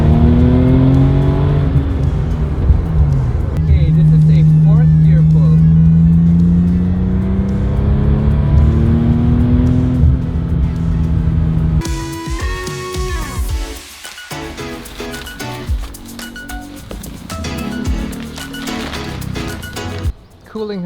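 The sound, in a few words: turbocharged car accelerating hard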